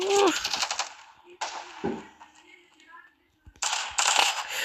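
Video game gunfire comes in rapid bursts, an opening volley, a few scattered shots, then another dense burst after a short silence, with a voice briefly heard between.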